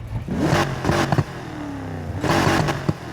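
A 1992 Ford Mustang Saleen Foxbody V8 in the racing game Need for Speed Heat revs twice, with a sharp rise, a falling engine whine between bursts and a second loud blip near the end, heard close and with no talk.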